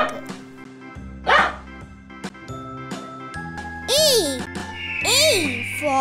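A cartoon dog barks in a children's alphabet nursery song, a few short yaps over bright music and a child's sung or spoken voice.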